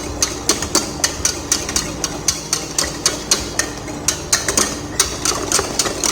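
A whisk stirs thickening pastry cream in a pot, knocking against the side in a steady, regular rhythm of sharp clicks over a low background hum, close and continuous.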